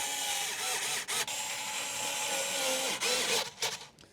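A power screwdriver driving T20 bolts into a BMW screen assembly, a close whirring buzz in a few bursts separated by brief stops.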